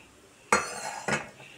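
A spoon scrapes and stirs pepper paste sauce thinned with a little water in a pan, two short close clinking strokes over a quiet background.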